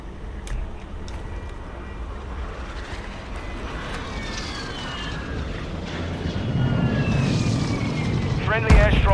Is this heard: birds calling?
no